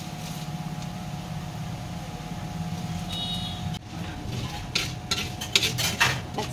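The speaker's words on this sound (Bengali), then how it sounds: "জিরে ধনেটা সামান্য একটু নাড়িয়ে নিলাম" Whole cumin and coriander seeds are stirred in a pan for a chicken dish, a faint soft scraping and rustle of spoon against metal over a low background hum, with a few sharper clinks near the end.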